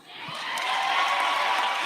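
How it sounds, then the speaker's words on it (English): Graduates at a 2022 medical school commencement cheer and whoop, the crowd noise swelling quickly from quiet into a loud, sustained roar. "Please, make some noise for yourselves."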